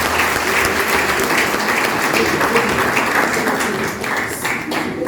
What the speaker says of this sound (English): Please give me a round of applause.